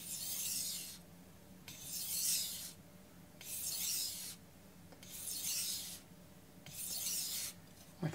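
A knife blade is drawn in full strokes across a Chosera whetstone, making five evenly spaced, close, soft gritty scrapes with brief pauses between them.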